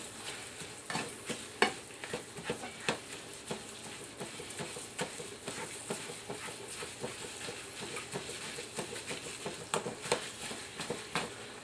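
Ground meat for spaghetti sauce browns in a pan. A soft frying sizzle runs throughout, punctuated by repeated scraping stirs at a fairly regular pace, heard up close with no voices.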